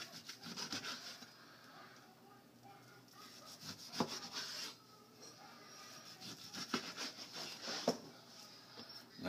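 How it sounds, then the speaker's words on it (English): A knife slicing fatty raw beef into cubes for grinding, heard as soft, scraping cuts and rubbing strokes on a board with a few sharper thuds, close and fairly quiet, with no talking. "And you turn it sideways and cut it into cubes."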